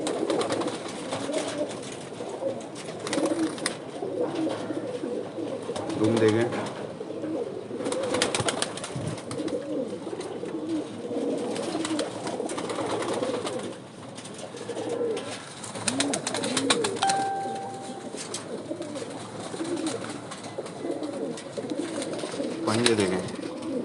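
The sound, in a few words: pigeons cooing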